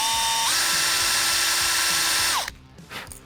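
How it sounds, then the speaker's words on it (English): A small power drill with a 5/64 bit bores holes in a plastic crankbait lure, a steady high whine for about two seconds that winds down and stops, followed by faint handling noise. "when I drill those exactly at 3/10, I hit that BB every time, dead center"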